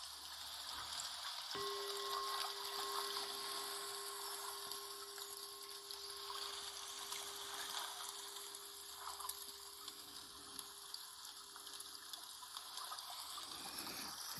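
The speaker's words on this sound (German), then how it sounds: "Lauscht noch einige Zeit dem Wasserrauschen und genießt diesen wundervollen Ort ein wenig." A stream of water rushes steadily and continuously, a broad even wash with no breaks, overlaid by a faint steady tone.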